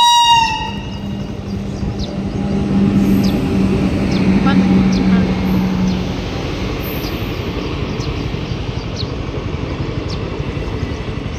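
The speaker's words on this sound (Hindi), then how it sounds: "रेल भी आ गई है।" A train rumbles steadily past a closed railway crossing, loud and continuous, with a horn-like tone early on and faint voices in the background.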